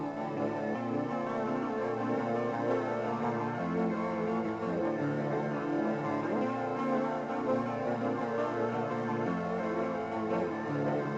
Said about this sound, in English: all the guitars together at the climax of all the guitars, just on their own, they sound like this